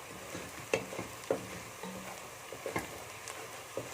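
Onion sautés in a pan with ghee and oil, giving a soft, low sizzle under repeated sharp clicks and scrapes of a utensil stirring at an uneven pace.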